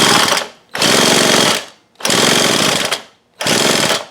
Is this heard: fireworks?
no